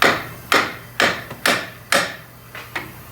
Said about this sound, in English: Now we want a big hammer. We'll hit on that steering knuckle.